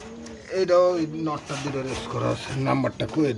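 Racing pigeons coo in cages in low, throaty bursts, close by and fairly loud, with a few repeated calls over a couple of seconds.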